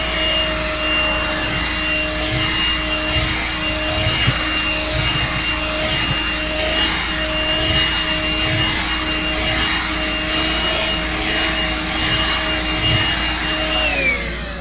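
A Makita 18V cordless vacuum runs steadily over an area rug, its high motor whine and airflow rush holding constant and close throughout, with faint rhythmic brushing pulses as the head is pushed back and forth.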